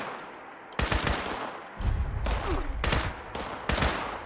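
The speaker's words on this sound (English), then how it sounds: "I'm getting shot by zombies?" Zombie enemies fire guns at the player in a post-apocalyptic wasteland video game, with rapid bursts of gunfire cracking in several volleys at moderate loudness.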